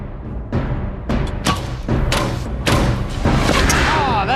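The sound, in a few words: arrow machine gun firing arrows at targets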